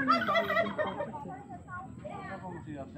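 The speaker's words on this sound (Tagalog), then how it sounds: "Grabe, may manok oh." Chicken clucks in an outdoor mountain setting at a view deck, a few close, loud calls in quick succession at the start, followed by softer, scattered calls with faint background voices.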